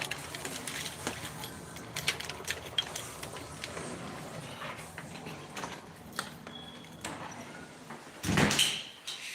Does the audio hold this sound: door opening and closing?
yes